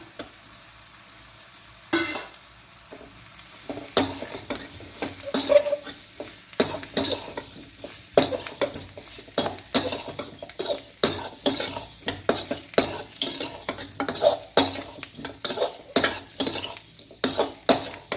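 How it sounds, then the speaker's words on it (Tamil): Mashed potato is stirred into potato sambar in a pot. Spoon scrapes and clinks against the metal pot come in quick, irregular bursts over a soft sizzle, growing busier after a brief quiet start; close, no voices. "மசிச்சு வச்சுருக்கிற உருளைக்கிழங்கு சேர்த்துடலாம் ரொம்பவும் மசிக்க வேண்டாம்"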